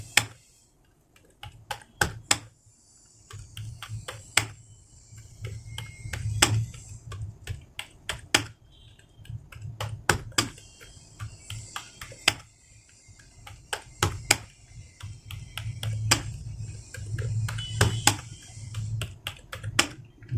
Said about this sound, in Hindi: अब वापस आप देखिएगा स्पीड में कैसे की जाएगी टाइपिंग